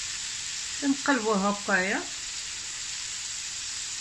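Spiced fish frying in hot oil in a pan, turned to cook on both sides: a steady, bright sizzle runs throughout, with a short burst of speech over it partway through.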